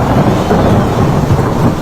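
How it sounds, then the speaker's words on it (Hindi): Steady, loud rain pours over a deep low rumble of thunder during a heavy thunderstorm, a continuous dense wash with no voices. "आज बारिश होने की वजह से गर्मी से राहत मिली है।"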